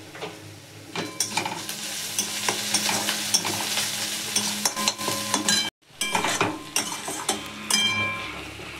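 Okra frying in a wok, sizzling steadily with repeated sharp scrapes and clinks of a spatula against the metal, close and continuous with a brief silent break partway through.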